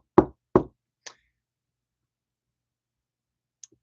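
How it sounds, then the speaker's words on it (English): Two firm knocks on wood, close and clear, followed by a lighter tap and a faint click after a pause of silence. "Knock on wood."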